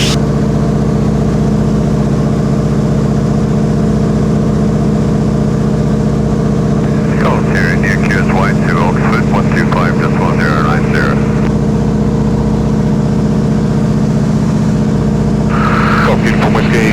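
A WW2 Harvard propeller trainer in flight near the West London Aero Club, its piston engine droning loud and constant from inside the cockpit, with radio-style talk heard over the steady roar.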